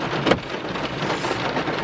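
Steady rain patters on a surface nearby, a dense continuous hiss with a brief louder splash near the start.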